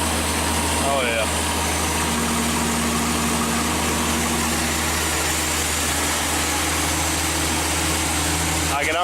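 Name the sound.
car engine idling after ignition upgrade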